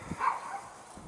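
A puppy gives a single short, faint yip close by, brief and alone.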